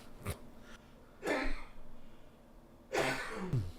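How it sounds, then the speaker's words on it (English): A man coughing and clearing his throat in a few harsh bursts close to the microphone, with pauses between them in a quiet room. "Can't stop coughing."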